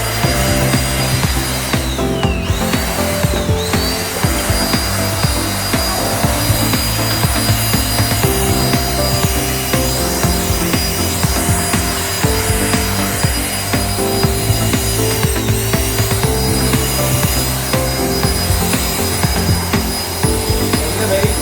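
An Agaro 800W handheld vacuum cleaner fitted with its brush attachment cleans a sofa, its motor holding a loud, steady whining drone with grinding texture for the full stretch.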